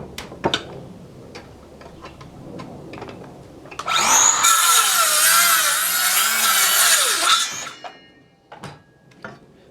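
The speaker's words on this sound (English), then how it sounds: "That thing saws funny." A saw cuts wood for a wooden box in a workshop, one loud continuous cutting burst of about three and a half seconds between scattered knocks and taps, with no talking.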